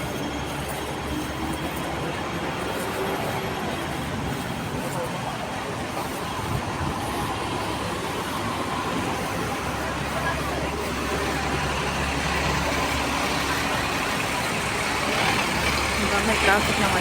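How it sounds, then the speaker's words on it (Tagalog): Road traffic in Hong Kong, a steady low rumble of passing vehicles heard from inside a moving vehicle, continuous and moderately faint, with talking over it. "May traffic na ngayon sa Hong Kong."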